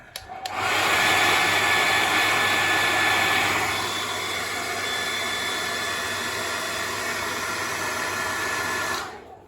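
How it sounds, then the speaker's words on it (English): A hairdryer blows on painted Dark Angels miniature decals, switching on with a steady, loud airy roar and whine that holds, eases slightly midway, then cuts off after about nine seconds. "And then back onto the hairdryer."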